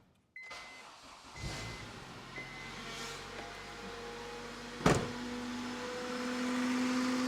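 On a Honda EP3 car with the fuel line being primed, a sharp click switches on a low electric hum, followed by another click and a rising steady whine of a pump or motor.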